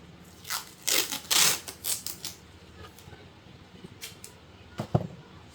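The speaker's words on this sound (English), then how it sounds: "I'm going to take some regular tape" Strip of regular clear tape pulled off a roll during cardstock gift box making: a few sharp, loud ripping bursts close up, then quieter scattered clicks and a final short tearing snap.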